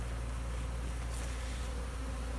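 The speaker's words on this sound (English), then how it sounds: "There's a lot of bees coming in and out" Busy honeybees fly in and out of backyard hives on a hot day, making a steady, dense buzzing drone that stays constant throughout with no voices.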